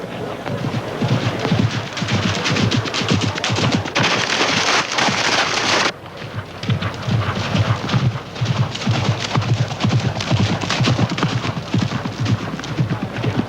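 Two horses gallop with a steady rapid clip-clop of hooves, loud and fairly close, running on under a continuous layer of rustling noise and a brief hiss near the middle.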